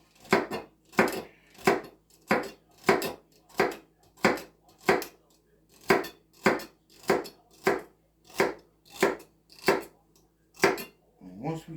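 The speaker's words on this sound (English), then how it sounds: "we're going to chop this up real good" A knife chopping food on a board in a steady, even rhythm of about sixteen crisp strikes, close and fairly loud, with no other sound alongside.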